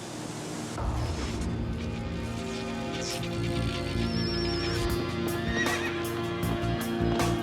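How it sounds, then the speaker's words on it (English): A pack of wild horses wanders along a shoreline, neighing and whinnying several times over a steady patter of clip-clopping hooves, moderately close with no voices. "On the new shoreline of the expanding sea wanders a pack of wild horses"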